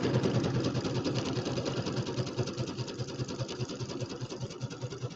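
A sewing machine zigzag-stitches around the binding of a St. Patrick's Day settee pillow, a steady close-up mechanical whir with a fast, even needle rhythm that runs without pause.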